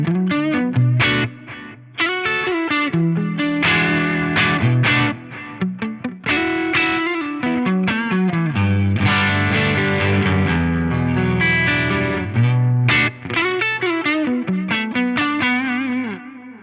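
An electric guitar runs through the stereo BBD modulation effect on a VP4 pedal, playing a loud, chorused, shimmering phrase of chords and single notes with brief gaps between passages.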